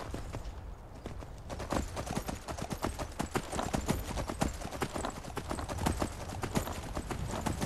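Steady clip-clop of horse hooves at a trotting rhythm in Skyrim, close and continuous, with rustling game ambience behind it.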